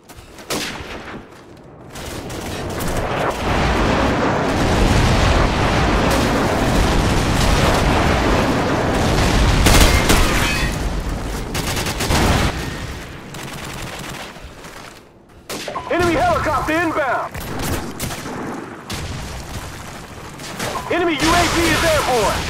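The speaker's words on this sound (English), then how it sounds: "Enemy airstrike inbound!" Heavy rumbling explosions and sustained gunfire from an airstrike in Call of Duty 4, a long loud barrage that dips briefly before resuming, with radio-style voice announcements mixed in.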